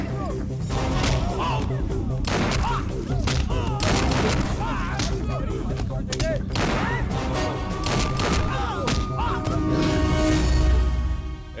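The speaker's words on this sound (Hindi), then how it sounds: "यहाँ पार्टी में फायरिंग हो रही है।" Dense gunfire at a party in a Hindi-dubbed action movie scene, rapid overlapping shots and bursts crackling continuously under shouting voices and loud music.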